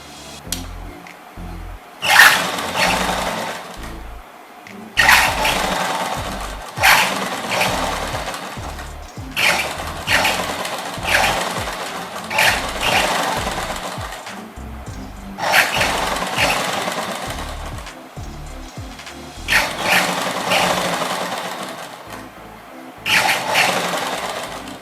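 A sewing machine stitches a folded hem in loud, close bursts of rapid whirring, each run lasting a few seconds and separated by short pauses, repeating steadily throughout.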